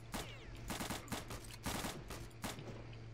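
Rapid bursts of automatic gunfire from the video game Return to Castle Wolfenstein crack out in quick, loud clusters of sharp shots with brief gaps between them, and no voices are heard.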